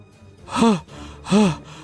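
A cartoon character pants heavily after running, two long voiced gasping breaths spaced about a second apart, close and alone.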